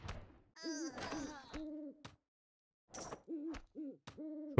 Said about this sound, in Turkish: Şu anda kuşun saldırısı altındayız.